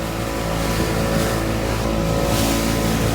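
A fishing boat's engine runs steadily while heading out to sea for herring drift netting, a loud continuous marine drone with a constant low hum and no pauses.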